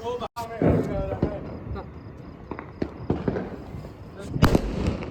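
Firecracker bombs going off during Diwali celebrations: several sharp, loud bangs at irregular intervals, with people talking in between.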